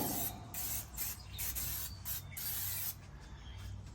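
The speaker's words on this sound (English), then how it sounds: "I'll give that another little spray back here." An aerosol sprays in repeated hissing bursts onto cast iron inside a Masterbuilt Gravity Series 800 grill, close and steady with short breaks between pulses.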